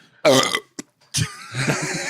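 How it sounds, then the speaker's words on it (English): A person lets out a loud, long, throaty burp with strong low resonance, followed by a short sharp click and then a second rough, drawn-out burp that trails off. "I can't make myself burp with that much force."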